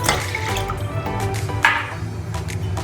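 Half a glass of water poured into a pressure cooker holding milk and sugar for milk payasam, a close wet splashing and trickling pour with a brief louder splash midway.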